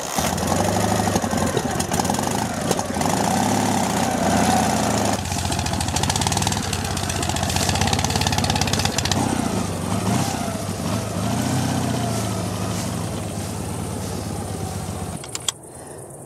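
A loud motorcycle engine runs steadily for most of the clip on a rough road to a wild pond, its pitch rising and falling as it rides, then drops off abruptly near the end.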